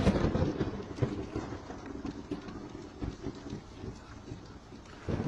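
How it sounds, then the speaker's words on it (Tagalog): Rain patters steadily while low rumbles of thunder roll in and out, with a heavier gust of noise at the end. "Ang lalabas pa naman ng kulog at kitlat."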